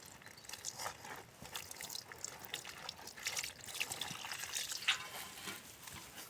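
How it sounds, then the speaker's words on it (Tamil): Water poured into potato spring roll batter and mixed by hand, a soft wet trickle and squelching stir continuing faintly without speech. "அதுக்கப்புறம் தண்ணி ஊற்றி மிக்ஸ் பண்ணிக்கிறோம்."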